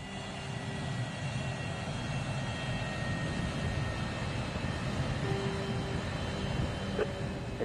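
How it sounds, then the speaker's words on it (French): A passenger airliner on a routine landing approach at Bangor gives a steady, continuous engine roar with a low rumbling drone, unbroken throughout and fairly close, with no talking. "Atterrissage de routine."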